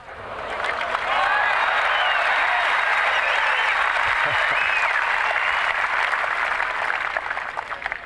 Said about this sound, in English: the crowd applauding there because there was another magical take in the stands